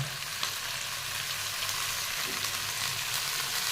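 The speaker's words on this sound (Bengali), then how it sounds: "এইবারে কিন্তু শাকগুলো আমি তুলে দেবো" Bottle gourd greens sizzling in a hot pan with a little turmeric, giving a steady broadband frying hiss that stays even throughout, close by with no voices.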